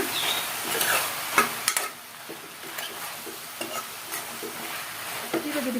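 Radish and lentil sambar mixture with chilli powder stirred in a pot, a spoon scraping and knocking in irregular bursts over a soft steady sizzle, close and fairly quiet.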